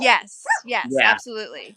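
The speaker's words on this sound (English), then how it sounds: "Excuse my dogs." Several pet dogs barking and yipping inside a house in short, close bursts, mixed with a person talking.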